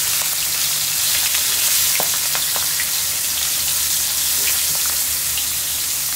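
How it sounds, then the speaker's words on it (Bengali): Hilsa fish fries in a pan of hot oil, giving a dense, even sizzle that holds steadily throughout, close and loud with a few faint ticks and no voices. "তখন খালামা এখন ভেজে নিচ্ছে।"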